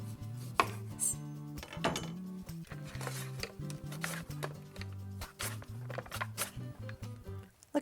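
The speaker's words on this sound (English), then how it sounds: "Let me slice up some of this candy cane beet so you can see what it looks like." A knife slices through a candy cane beet on a cutting board, giving a run of crisp, irregular cutting thunks and clicks over quiet background music.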